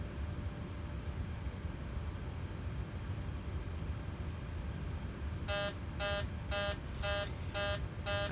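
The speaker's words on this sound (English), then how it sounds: "He is programming, he is testing the master caution alarm." Master caution alarm test on a Boeing 737 in Microsoft Flight Simulator: a series of about six rapid repeating electronic chime pulses starting partway through, over steady cockpit hum and noise.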